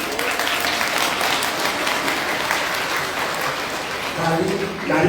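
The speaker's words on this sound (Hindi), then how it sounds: "ताली बजाए आप लोग, हमको बहुत बढ़िया लगा" Audience applause at a spiritual Shiv Guru discourse gathering, a steady dense clapping that holds throughout and swells slightly near the end, with faint voices mixed in.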